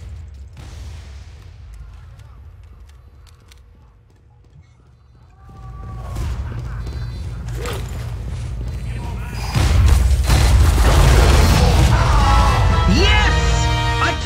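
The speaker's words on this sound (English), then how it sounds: "I took care of that person and their sentry gun" A sentry gun being destroyed in Team Fortress 2 comes through as a sudden loud burst of explosive, clattering game noise. Busy mechanical combat sounds continue around it.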